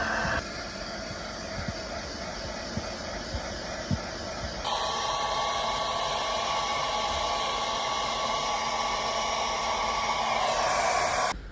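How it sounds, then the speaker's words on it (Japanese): A hair dryer running inside a small parked Toyota Sienta, powered from a portable battery: a steady loud whooshing blow with a constant motor whine that shifts to a higher, stronger setting partway through. "ドライヤーを使ってどんな感じになるか試してみ"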